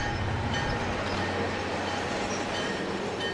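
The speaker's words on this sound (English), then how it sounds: "As the train drove into Chicago" A train rolls into a station in Chicago, a continuous loud rumble of wheels and carriages with faint squeals and rattles, steady from start to finish with no speech.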